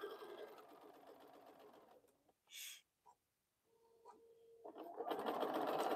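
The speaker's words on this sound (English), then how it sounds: "I'm trying to catch them, but I'm also sewing." A sewing machine stitches bowl cozies at a steady fast rhythm, running for about two seconds, stopping while a bird coos nearby, then starting up again loud and close.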